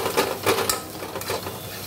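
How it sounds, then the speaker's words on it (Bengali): Spicy semolina with sugar stirred in a pan, soft repeated scraping and light clinks of a spoon over a faint sizzle, close by. "তো এটা নাড়তে নাড়তেই ঝুরঝুরে হয়ে যাবে।"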